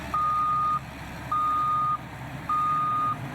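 A military engineering cleaning vehicle's reversing alarm sounds three steady beeps at an even pace, fairly clear over a low engine and outdoor rumble.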